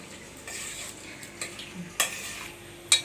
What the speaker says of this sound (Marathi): हे बघा हलक्या हाताने छानपैकी असं मिक्स करून घेतलेलं आहे